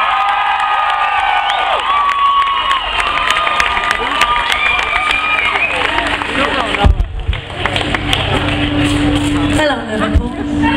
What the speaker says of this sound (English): Here we go then, rousing cheer.